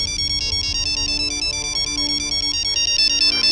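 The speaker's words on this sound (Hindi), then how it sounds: "पापा का फोन है।" A mobile phone plays a loud, steady ringtone, a repeating electronic melody that continues without a break and has no voices over it.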